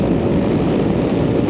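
A scooter on a highway at full throttle, holding about 6,800 RPM near 50, gives a steady, loud, continuous roar thick with wind buffeting against the microphone for the whole short stretch, with no talking.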